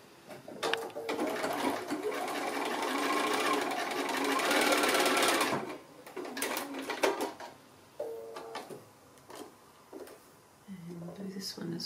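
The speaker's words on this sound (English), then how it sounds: "So I'm sewing on that diagonal line that I've drawn." A sewing machine stitches a diagonal seam on a quilt block in a fast, steady whirring run, then stops and starts in shorter bursts, close by, while a person talks quietly.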